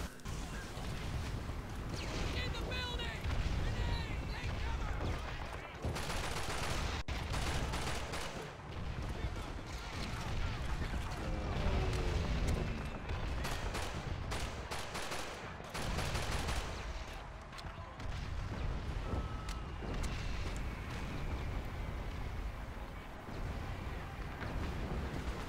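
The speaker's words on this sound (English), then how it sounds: "Explosions" Call of Duty 2 war combat: dense, continuous gunfire and rumbling explosions fill the whole stretch, loud and chaotic, with bursts of rapid shots and heavier blasts, while a voice talks over the battle at times.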